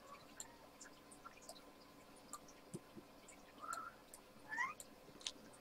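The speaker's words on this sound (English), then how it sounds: "It's my cat." A house cat meows several times, short and fairly faint, with two clearer chirpy calls near the end, over a quiet background hum with light ticks and clicks.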